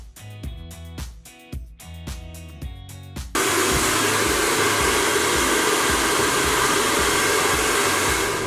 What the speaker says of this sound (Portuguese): Estou aqui já armado com meu secador em mãos e vamos secar essa juba